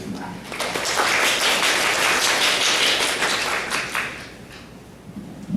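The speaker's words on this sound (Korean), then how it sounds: "큰 박수 부탁드리겠습니다" An audience at a chemical engineering conference in Korea claps for a keynote speaker, a dense burst of applause that fades over several seconds.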